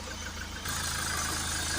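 A Ford S-Max 2.0 TDCi diesel engine idles steadily with a regular low knocking rumble, getting slightly louder partway through and continuing evenly.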